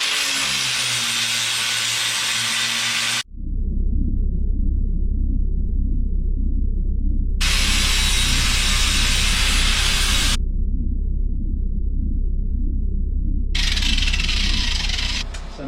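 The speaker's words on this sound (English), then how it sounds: "I'm going to have to grind a little bit here." Angle grinder working metal on a dump truck, loud harsh whine in long bursts with short pauses between, a steady low rumble of the truck continuing underneath throughout.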